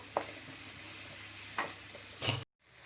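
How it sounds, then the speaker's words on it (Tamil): Vegetables frying in oil for chicken noodles, a faint steady sizzle broken by three quick stirring scrapes and a brief cut to silence near the end. "கொஞ்சம் நேரம் எண்ணெயிலே வேகட்டும்."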